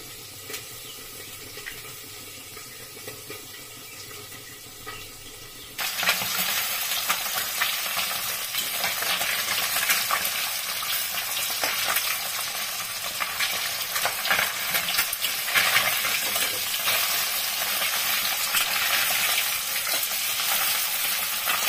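Pieces of boroli fish sizzle loudly in hot oil in a pan, the frying jumping in abruptly after a quieter start and then hissing steadily with scraping stirs and no talk.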